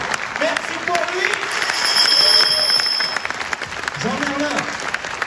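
Audience applause at a tribute to magician Jean Merlin: a dense, steady wash of clapping that swells in the middle, with voices speaking over it throughout.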